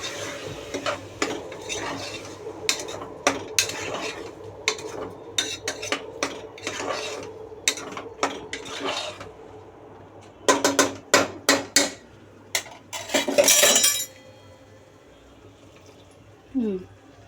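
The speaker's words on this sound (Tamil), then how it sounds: "இப்போ நம்ம கேடை வந்து ஊற்றிட்டு நம்ம அரைச்சி வச்சுருக்க மசாலாவை ஊற்ற போகிறோம்." A metal spoon clatters and stirs in a pot as ground masala goes into a vegetable biryani, with sharp scraping taps, a dense burst of clinks near the end, then quiet.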